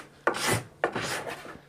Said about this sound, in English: So card scraper has an edge on it that you push off the finish.